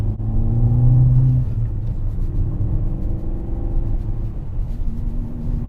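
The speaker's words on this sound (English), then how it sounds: "What is it like driving a Fiat Panda 100 HP as my first car?" A Fiat Panda 100 HP drives along an icy road, its engine a steady low rumble heard from inside the car, with a brief rise in pitch early on and no talking.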